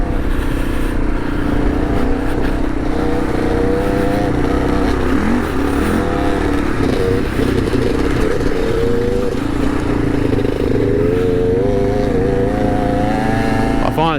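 A Kawasaki KLR650 motorcycle rides through a sandy off-road section, its engine loud and close with changing revs and tyre noise, while a rider talks over it.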